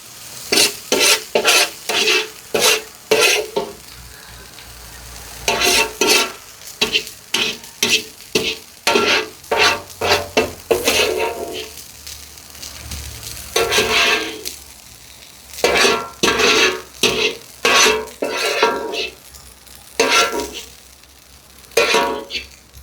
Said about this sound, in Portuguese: com o auxílio de uma espátula aqui, a gente vai raspando tudo isso aqui para aproveitar todo esse sabor dentro da receita